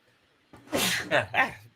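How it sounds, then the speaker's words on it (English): A single close, loud sneeze with a sharp intake and burst, followed by a brief breathy trailing sound. "While I sneeze, excuse me"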